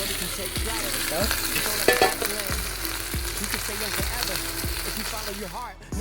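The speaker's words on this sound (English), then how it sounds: "Once the onions are tender, put back the ribs in the pan." Beef short ribs and onions frying in a pan, a steady loud sizzle with repeated stirring and scraping knocks throughout, no talking over it.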